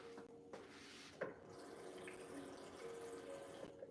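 Water is poured into a baking mix for sausage and cheese breakfast biscuits as a stand-in for egg whites, a steady, close running-liquid sound throughout with no talking.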